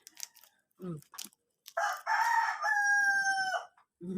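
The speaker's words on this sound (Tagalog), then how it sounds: "May manok eh." A rooster crows once, a loud drawn-out call close by, preceded by a few short clucks and bird noises.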